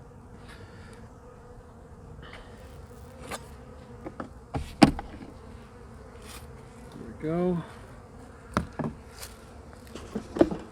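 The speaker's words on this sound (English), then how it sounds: "The way these bees are just flying out of here" Honeybees buzz around a top-bar hive nearby in a steady low hum, with sharp clicks and knocks of handling and a brief louder buzz passing close; a voice speaks briefly.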